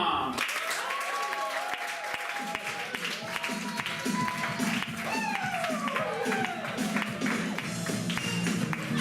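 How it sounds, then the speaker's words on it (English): An audience gives loud, sustained applause and cheers for the act AstroMom at a live comedy show, with voices calling out and talking over the clapping. "let's please give a huge round of applause to our first act"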